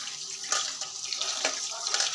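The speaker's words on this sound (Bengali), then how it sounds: "চাল নিলাম, এখানে ধুতে আসি।" Rice washed under a running tap in a home kitchen, a continuous hissing water stream with soft irregular splashes and sloshing as the grains are stirred, close and fairly quiet.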